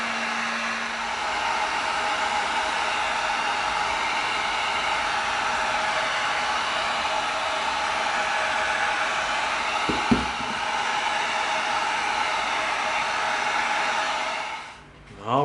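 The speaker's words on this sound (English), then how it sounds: "let's bring in our heat gun. Let's seal this whole thing up and tighten it up." Heat gun blowing hot air to seal and tighten shaped EVA foam for a prop gun build, a steady broadband roar held close and loud for about fifteen seconds, with a couple of faint knocks midway before it cuts off.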